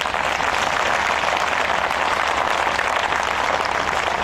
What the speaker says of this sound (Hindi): वाह, अपने लिए बड़ी अच्छी ताली बजाओ।